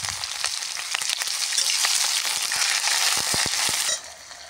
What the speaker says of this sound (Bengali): ও পাঁচফোড়ন দিলাম, এবার দেব পেঁয়াজ, কাঁচা লঙ্কা দিয়ে এবার এটাকে একটু নাড়াচাড়া করে